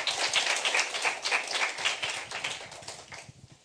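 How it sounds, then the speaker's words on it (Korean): Audience applause at a Korean presentation contest, a sustained burst of many hands clapping from a crowd that fades toward the end. "뜨거운 박수 부탁드립니다."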